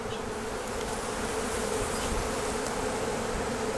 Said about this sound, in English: there's a lot of bees on this one.